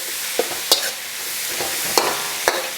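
Pad Thai noodles sizzle steadily in a hot pan while a utensil scrapes and clacks against it a few times, sharp metallic hits over constant frying hiss.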